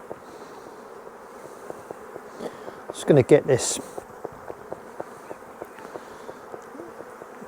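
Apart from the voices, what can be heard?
honeybees buzzing around an open hive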